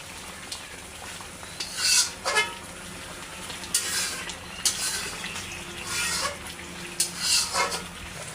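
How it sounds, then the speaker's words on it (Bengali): Pangas fish sautéing in a spiced masala in a pan, heard as intermittent stirring and scraping bursts with light clinks of a utensil over a low steady background, fairly close and without talk. "এই মশলাতে বেশ কিছুক্ষণ মাছগুলো কিন্তু কষিয়ে নিতে হবে"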